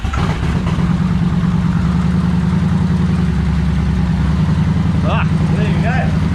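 A Kawasaki Vulcan 1500 motorcycle engine idles in neutral after clutch bleeding, a steady low throbbing rumble close by and continuous throughout, with someone talking briefly near the end.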